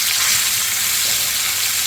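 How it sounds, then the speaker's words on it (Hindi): Garlic crackling and sizzling steadily in hot ghee, a dense frying hiss heard up close with no talking. "तड़का लगा लेना है जी देसी घ्यो का ज़बरदस्त"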